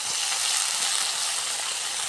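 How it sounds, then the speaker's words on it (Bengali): Dried fish added to frying onions in a pan, producing a continuous, close, hissing sizzle at steady loudness with no other sounds. "এবার জাল মাছের শুটকিটা আমরা দিয়ে দিলাম।"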